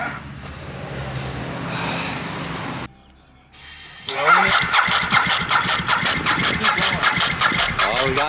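A restored, long-abandoned Ducati motorcycle, running on a battery not made for it, cranks weakly, goes quiet briefly, then fires up into a loud, pulsing, rhythmic engine note close by.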